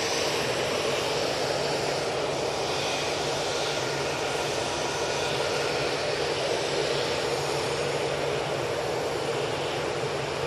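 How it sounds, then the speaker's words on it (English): An EasyJet Airbus A320-200 jet at Manchester Airport produces a continuous, even whooshing engine roar, broadband and steady at close range, with a faint tonal whine on top and no talk. "This EasyJet A320-200 is off to Thessaloniki."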